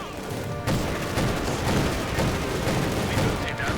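Gunfire from a Company of Heroes 2 battle, with a dense, continuous crackle of shots and booms layered under a commentator's steady voice throughout.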